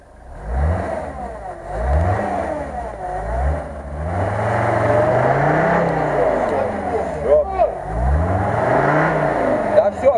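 A UAZ-469 off-road vehicle engine revs repeatedly up and down, loud and close, in rising and falling surges over several seconds, with people talking over it.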